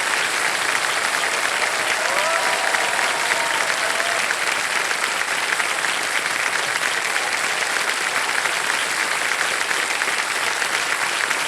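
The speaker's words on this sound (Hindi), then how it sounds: "तालियां बजती रहें इनके लिए" Sustained studio audience applause on the KBC quiz show after a contestant wins 5 lakh rupees, loud and dense throughout without a break.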